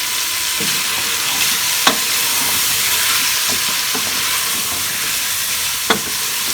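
Beef stir-fried in a pot with red chili powder, turmeric, cumin and tomatoes for masala biryani: a loud, steady hiss of sizzling oil throughout, broken by a few sharp clinks of a spoon against the pot.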